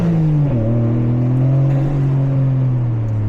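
A Toyota GR Corolla engine is pushed hard under load, a loud close-up sustained drone whose tone shifts abruptly after a moment and then climbs slowly, continuous with no pauses and no talk.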